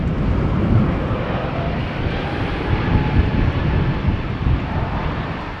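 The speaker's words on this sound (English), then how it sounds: "This is ITA flight 121 to Milan, which will be taking off soon." An ITA airliner takes off at Amsterdam Schiphol Airport, a loud, continuous jet roar that stays strong and steady for the whole stretch, with no voices.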